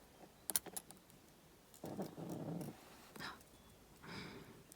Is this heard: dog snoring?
yes